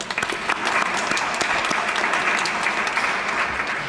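An audience claps loudly and steadily for a city official at an indoor swimming pool reopening ceremony, close and continuous.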